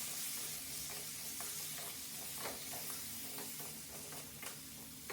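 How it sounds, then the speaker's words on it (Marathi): Ridge gourd pieces coated in masala sizzle in hot oil while being stirred, giving a soft, continuous frying hiss broken by repeated light scraping strokes of the spoon. "चांगल्या प्रकारे हलवायचं आहे म्हणजे सगळा मसाला दोडक्यांच्या फोडींना लागेल"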